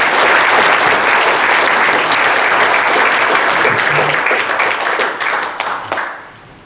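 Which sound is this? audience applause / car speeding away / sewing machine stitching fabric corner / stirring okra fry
audience applause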